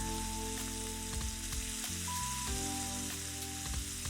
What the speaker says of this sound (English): Add the fillets to the Medley XL and sear on both sides until golden brown.